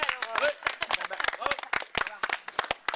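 A school audience claps for a student named Issa, loud uneven individual claps close by with irregular rhythm, mixed with voices talking and calling out.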